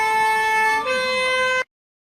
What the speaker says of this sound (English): This is just a stock siren or something?